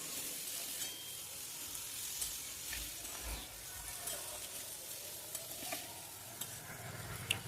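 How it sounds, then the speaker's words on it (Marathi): Drumstick vegetable curry stirred in a pan, with a steady close sizzle and a string of soft spoon-scraping strokes through the whole stretch, no voices. "त्यानंतर शेंगा टाकून छान मिक्स करून घ्यायचं आहे."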